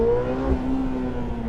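A light hypercar prototype on Sonoma Raceway, heard from inside during a ride-along, its engine holding a steady droning whine that climbs slightly under throttle, close and constant, with no talk.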